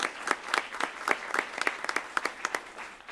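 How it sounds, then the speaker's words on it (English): A small group at a college board of regents meeting gives a brief round of applause, individual claps clearly distinguishable and uneven, moderately near, fading slightly toward the end. "we want to applaud her at her new role"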